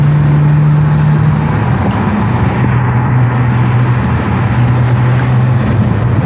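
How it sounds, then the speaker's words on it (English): Acura NSX engine with its turbos breathing, a steady loud drone with a low hum running throughout, heard as if from inside the car with the window down. "when the window's down, you can hear the turbos breathe a little bit, so it sounds cool"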